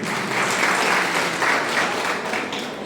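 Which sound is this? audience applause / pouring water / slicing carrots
audience applause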